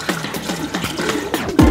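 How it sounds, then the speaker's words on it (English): Apple cider poured into a big pitcher, a short gurgling liquid splash that thickens near the end as the flow lands heavily, close and fairly loud. "So we have a big pitcher, 2 quarts apple cider"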